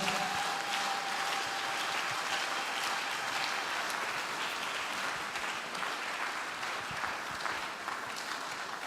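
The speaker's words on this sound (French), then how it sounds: "Applaudis très bien." During a prayer Mass, a congregation breaks into sustained, dense applause that stays loud and constant for several seconds and tapers slightly toward the end.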